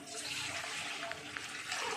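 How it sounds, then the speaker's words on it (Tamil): Water from a vessel pours steadily into a pot while cooking ragi semiya, a continuous splashing rush with no talk over it. "ஒரு சொம்பு தண்ணி ஊற்றிக்கலாம்"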